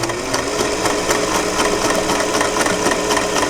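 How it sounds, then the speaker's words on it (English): A sewing machine runs steadily up close, stitching patchwork blocks, its rapid needle forming an even mechanical whir with a regular ticking pulse. "So let's get set up at my sewing machine."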